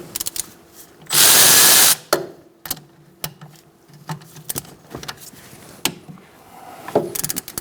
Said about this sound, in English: Using a 14mm long socket, you're going to take off your caliper